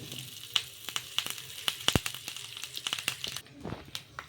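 Mustard seeds, cumin and curry leaves crackle in hot oil as a tempering for chutney: a faint, close sizzle broken by quick, irregular pops and snaps.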